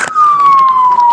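A police siren wails loudly and steadily at an emergency scene, one long tone sliding slowly downward after a brief burst of noise.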